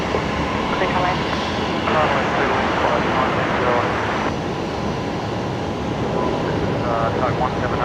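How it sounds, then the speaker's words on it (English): An Airbus A220 jet taking off at Brisbane Airport, giving a loud, steady engine roar that holds throughout, with radio chatter from air traffic control over it. "A220 is rolling."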